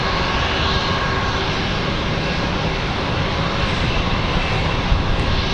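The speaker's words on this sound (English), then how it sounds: "It's American A321 going to the customs gates" An American Airlines Airbus A321 jet taxis toward the customs gates at Raleigh-Durham International after a flight from Cancun, giving a steady, loud broadband engine roar that holds evenly throughout with no voices.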